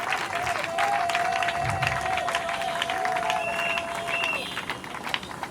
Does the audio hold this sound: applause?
yes